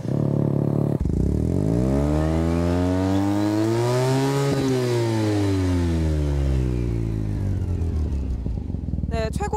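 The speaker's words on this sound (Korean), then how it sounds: "소음기를 불법으로 변경한 오토바이입니다." A motorcycle fitted with an illegally modified muffler revs hard and close, its engine pitch climbing to a loud peak mid-clip and then falling away, sustained throughout.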